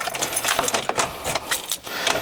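Keys for a squatted pickup truck jangle close by in a quick metallic rattle, several bright shakes over a couple of seconds with no talking.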